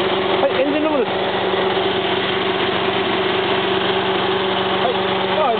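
A Suzuki Cappuccino's small engine idles steadily in the engine bay, its low even hum running throughout with no change in pace, heard up close.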